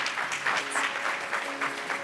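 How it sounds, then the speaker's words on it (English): An audience at a sustainability conference applauds a panel, steady dense clapping throughout at constant loudness, with no voices. "A round of applause, ladies and gentlemen. Thank you to the panelists."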